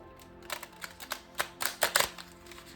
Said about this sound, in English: So I'm just shuffling the cards here.